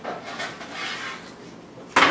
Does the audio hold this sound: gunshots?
no